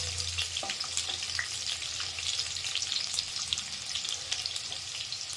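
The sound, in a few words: garlic frying in a pan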